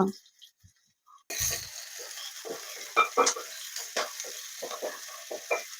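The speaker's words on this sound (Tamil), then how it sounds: "பெரிய வெங்காயம் பச்சை மிளகா எல்லாமே சேர்த்து நல்லா வதக்கிக்கிடுவோமா" Onion and green chillies sautéing in an open pan in a village kitchen: after a quiet opening, a steady close sizzle with repeated scraping clicks from stirring.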